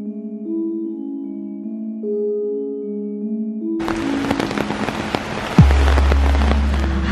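Sudden torrential rain pours down by a pool, a dense hissing roar that bursts in abruptly after a stretch of quiet music and stays loud and steady.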